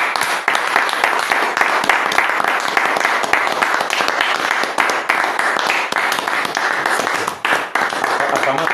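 A church congregation at a revival assembly applauds together, dense continuous clapping filling the space at steady loudness throughout, with a few voices mixed into the crowd noise.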